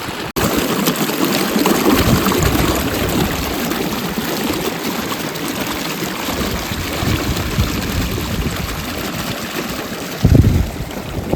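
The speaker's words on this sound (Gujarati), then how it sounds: "આ મોટરનું પાણી આવે છે" Water from a motor pump gushing steadily from a pipe on a farm, a loud continuous rushing splash close by, with a short thump near the end.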